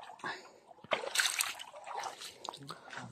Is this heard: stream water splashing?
yes